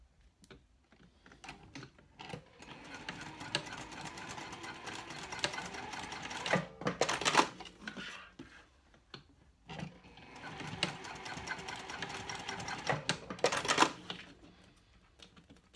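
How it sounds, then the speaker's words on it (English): Sewing machine stitching through cork on an all-cork clutch wallet, running in two long bursts of steady rapid needle hammering with brief stops and a short pause between them, close and alone. "I'm gonna stitch a 1/4 inch down these sides"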